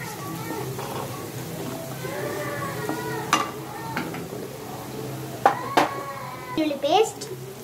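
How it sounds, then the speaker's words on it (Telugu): Turmeric stirred into two spoons of sizzling hot oil in a pan: a steady frying hiss with scraping and a few sharp spoon clinks against the pan, while a voice talks over it. "నూనె 2 స్పూన్ చేసిన తర్వాత పసుపు వేసేసుకొని బాగా కలుపుకోవాలి."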